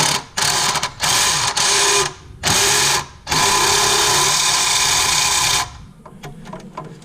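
A pneumatic impact wrench rattles in loud, high-pitched bursts while taking a nut off a Toyota Camry L engine, several short pulls followed by one long sustained run, then it stops and faint shop clinks remain.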